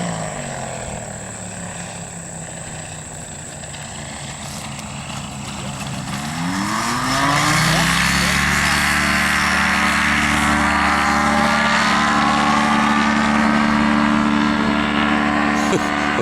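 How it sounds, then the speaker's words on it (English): A radio-controlled model airplane flies in on a landing approach, its small engine droning steadily and rising in pitch and loudness as it nears and passes close by. "That's where we land our RC planes."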